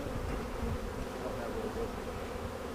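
Honey bees buzz around hives being supered in Tiffin, Ohio, a continuous, dense hum of many insects close by, fairly faint and unbroken, with no talking.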